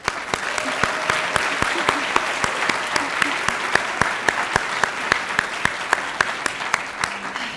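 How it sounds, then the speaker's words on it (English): Audience at a 25th anniversary luncheon applauds steadily, dense clapping from many hands with a few sharp close claps standing out, while a voice speaks briefly underneath. "Another round of applause for Mayor Deegan."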